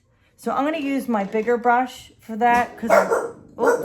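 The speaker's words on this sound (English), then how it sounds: "sorry about my dogs." Dogs barking indoors during a watercolor painting session, sharp barks mixed in beneath someone speaking close by.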